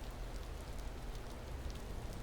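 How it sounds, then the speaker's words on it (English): Steady rain pours in the Star Wars Zero Company video game, a dense continuous hiss of drops on surfaces, close and even with no talk over it. "You think the rain would be making a lot of noise too"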